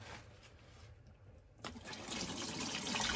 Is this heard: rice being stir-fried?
no